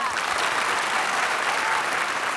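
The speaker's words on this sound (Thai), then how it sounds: "ปรบมือให้ป้าแต๋ว" Dense, continuous applause from a school audience at Phanom Thuan fills the space evenly, a loud wash of many clapping hands with no pause.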